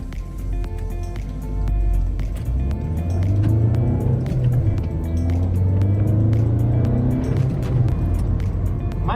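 A car drives along with a steady engine hum that rises as it picks up speed, heard from inside the vehicle.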